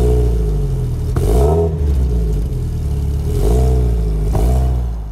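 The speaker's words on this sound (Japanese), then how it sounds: "マフラーはもうこれ STI ゲノムマフラーで。" Subaru Impreza GDB engine revving through an STI Genome muffler: a loud, steady idle broken by three sharp throttle blips that rise and fall, each with a deep exhaust bark, no talk.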